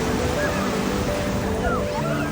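Steady roar of sea waves breaking on Puri beach with wind rushing across the microphone, a continuous broad wash of surf with no talking.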